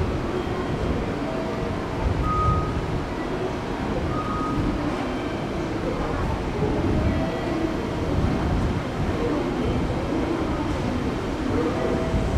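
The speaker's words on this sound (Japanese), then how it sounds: "2番線に電車が参ります。" A freight train hauled by a JR Freight EF66 electric locomotive rumbles slowly through Kanayama station, a continuous low roar with faint metallic squeals, heard at close range for the whole stretch.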